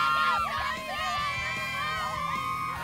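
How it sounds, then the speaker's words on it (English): A homecoming football crowd cheering at H.A. Chapman Stadium in Tulsa: a broad, steady roar of fans with whoops and shouts rising over it, heard from within the stands. "It's the second homecoming crowd the Mustangs have faced on the road in 2 weeks' time."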